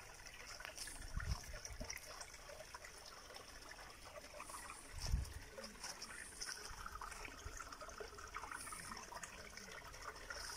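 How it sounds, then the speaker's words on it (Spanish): Faint, steady trickle of water from a small roadside waterfall running continuously in the distance, with a couple of soft low thumps. "Bueno, cascadita, en realidad un chorrito de agua"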